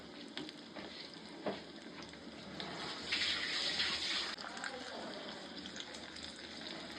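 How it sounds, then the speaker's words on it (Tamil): Ingredients for payasam are roasted in a pan until browned, giving a faint, steady sizzle with occasional soft stirring noises and no voices. "இது வந்து நல்லா வறுத்துக்கணும்"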